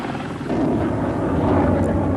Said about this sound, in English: Helicopters are used in concert with the sonars mounted on the warship.